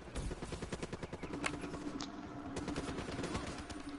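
RPK light machine gun in Black Ops 3 firing rapid sustained bursts, a dense steady rattle of shots throughout with game ambience underneath.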